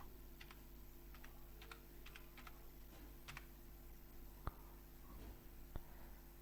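Typing on a computer keyboard while creating a Java class on a Windows PC: a few quick, soft key clicks come in short bursts, followed by two sharper isolated key presses, all faint and close.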